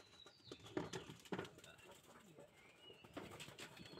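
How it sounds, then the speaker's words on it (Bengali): Pet pigeons kept at a village home coo softly in a low, throaty murmur, with a few wing flaps and people talking nearby. "তুমি আমার কবুতর দেখো"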